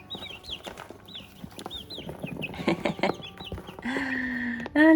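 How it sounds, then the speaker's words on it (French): Young chicks and a small cockerel cluck and cheep in a grassy outdoor run, with repeated high chirps and short clucks close by, growing busier toward the end. "Ah là là, le petit coq là."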